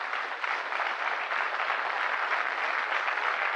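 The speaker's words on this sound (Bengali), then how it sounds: "বড় করে হাততালি দিন।" Sustained applause from a seated event audience, dense and steady clapping filling the room at moderate loudness, with no one speaking over it.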